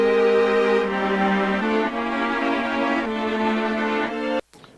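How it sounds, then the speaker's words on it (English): A sustained, layered tonal sound raised two semitones with a Pro Tools pitch plugin, shifting through a few held notes with a faintly grainy, artificial edge before cutting off abruptly near the end. "you're starting to hear a little bit of artifacts in it, a little bit of graininess in the sound."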